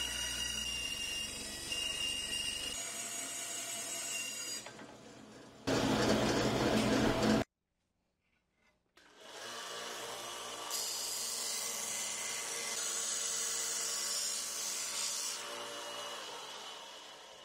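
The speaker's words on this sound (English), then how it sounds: "Here I'm cutting the top panel and the front panel of the arcade machine using a bandsaw." A bandsaw cuts the top and front panels for a bartop arcade machine, a steady close whine with a harsh cutting rasp, stopping briefly in the middle before starting up again.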